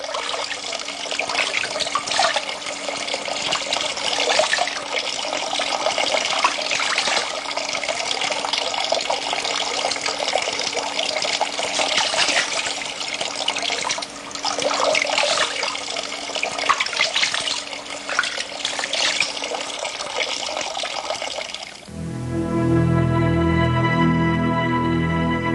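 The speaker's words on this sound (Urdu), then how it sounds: "یہ ایک دوسرا چشمہ ہے جس کو بنی اسرائیل نے استعمال کیا تھا اور صحرائے سینا میں آج بھی قائم ہے" Water from a desert spring in Sinai pours through an old iron pipe, a steady splashing rush that holds for most of the stretch before giving way to a softer tonal hum near the end.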